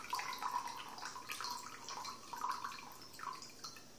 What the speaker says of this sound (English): So I'm going to add some of the sugar water into the yeast